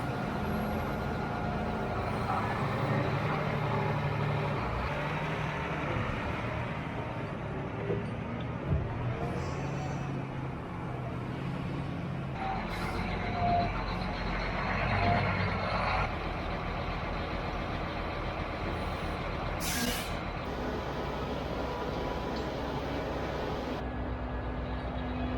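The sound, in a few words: fertilizer truck driving up, air brakes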